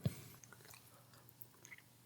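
A bite of creamy baked macaroni and cheese being chewed close up, soft wet mouth sounds with a few small smacks, quiet and alone.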